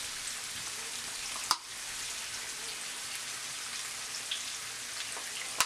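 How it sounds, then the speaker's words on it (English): Shrimp seasoned with seasoned salt, garlic powder and onion powder sautéing in a pan for tacos, giving a steady, close crackling sizzle with a couple of sharp clinks. "just let this do its own thing, you know, saute them up a little bit"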